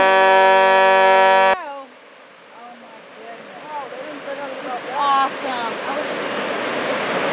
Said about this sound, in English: all of a sudden the water started rolling out of the dam